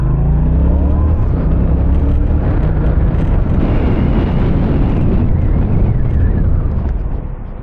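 A Yamaha Ténéré 700 motorcycle accelerating hard on a riding test course, a loud, close engine roar with rising tones under heavy wind buffeting, easing off toward the end.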